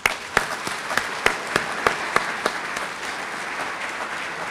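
Audience applause at a university event, a steady wash of many people clapping with a few sharp louder claps near the start, sustained at moderate volume without speech.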